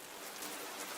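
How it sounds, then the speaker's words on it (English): Steady rain sound effect previewed in a video editor: a dense, even hiss of falling rain on a surface, constant and fairly loud throughout, with no voices. "we want rain,"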